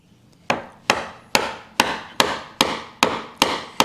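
A chisel is struck repeatedly with a mallet to chop a mortise by hand in wood for a table apron, giving eight sharp, evenly spaced, loud knocks, each with a short ringing decay, and no talk.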